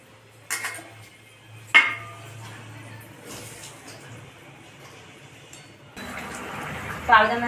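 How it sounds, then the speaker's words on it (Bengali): Fried pabda fish go into boiling gravy in a pot, with a few sharp metal clinks of utensil against pan, a soft bubbling simmer beneath, and a louder splashing stir near the end. "এবার আমি ভেজে রাখা মাছগুলোকে ঝোলের মধ্যে দিয়ে দেবো"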